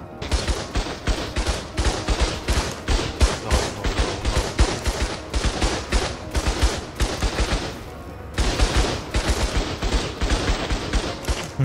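Rapid turret gunfire in the PvP video game Ark, dense bursts of loud, close shots in quick succession, broken by one short pause before the firing resumes at the same relentless pace.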